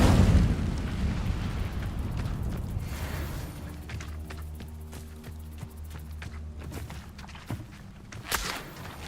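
A fire spell being cast in the video game Hogwarts Legacy: a loud whooshing burst that fades into crackling and rumbling, followed by sharp clicks and thumps.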